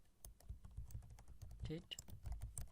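Computer keyboard typing while writing React code for a currency converter, soft rapid key taps close by at low level, with a brief quiet voice partway through.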